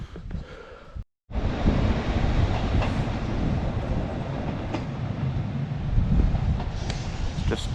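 A train passes on the railway, loud and close, its rumble and clatter running on steadily for several seconds after a brief gap.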